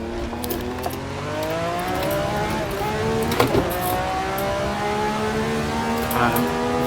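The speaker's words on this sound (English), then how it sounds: "V12 engines." Formula 1 car with a V12 engine lapping the Spa circuit, its engine note climbing steadily through the gears in rising harmonic sweeps, loud and close, with a brief mechanical clunk partway through.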